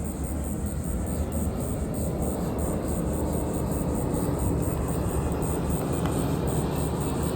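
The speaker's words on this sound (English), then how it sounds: "There's an airplane flying over." An airplane passing overhead outdoors, a steady, broad, rushing roar that holds at an even loudness for the whole stretch, with no one speaking.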